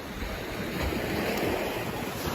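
Water waves wash outdoors in an open natural setting, a continuous soft surging rush mixed with wind buffeting the microphone, steady and unbroken for the whole moment.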